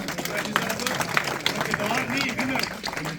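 An audience claps steadily at a prize distribution ceremony in Birmingham, a dense sustained patter mixed with crowd noise and a voice over the top.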